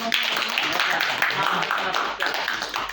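Audience clapping in a classroom after a student's presentation: a steady spread of hand claps filling the room for a few seconds, moderately loud and continuous.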